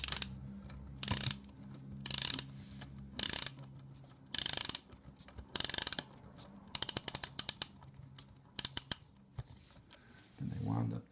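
A mechanical alarm clock is wound by hand in a series of ratcheting bursts, each a quick run of clicking pawl and gear sounds separated by brief pauses, close and fairly loud.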